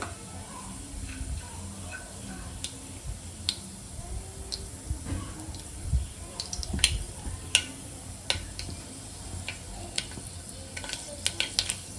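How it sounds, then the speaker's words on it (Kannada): Mustard and cumin seeds splutter in hot oil, with scattered sharp pops and crackles over a faint, steady sizzle, close and quiet. "ನೋಡ್ರಿ ಸಾಸಿವೆ ಸಿಡಿಯಾಗತ್ತಾವಲ್ಲೇ."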